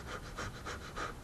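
A mountain climber breathes in quick, rapid pants, about six fast in-and-out breaths in a steady rhythm. The breathing is faint but close, with no talk.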